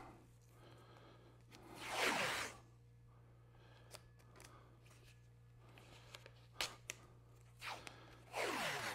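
Masking material being peeled off a Bose subwoofer during a DIY rebuild, with a few loud tearing rips close by, separated by quieter handling sounds and a low background hum.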